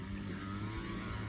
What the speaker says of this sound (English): trim all his overgrown grass